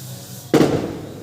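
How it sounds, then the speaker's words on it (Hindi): A single firecracker bursts outside during Diwali celebrations, one sharp loud bang that decays into a brief rumbling tail, with a quiet background before it and no talk. "बाहर पटाखा की आवाज़ आ रही है"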